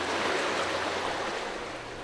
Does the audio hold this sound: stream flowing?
yes